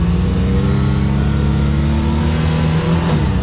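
A 2024 Can-Am Maverick R side-by-side engine runs loud and steady close by, holding a strong droning tone throughout with a slight rise in pitch, with no talking.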